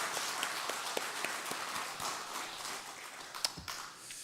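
Applause from a church congregation at a revival service, a diffuse wash of hand claps with a few sharper taps, steady at moderate level and fading slightly toward the end, with no talking over it.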